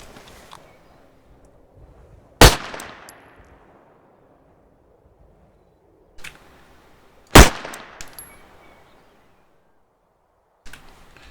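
Sharp metallic clacks and loud snapping bursts spaced several seconds apart, each ringing out briefly over a quiet background: weapon reload sounds in the video game ArmA 3 with sound mods.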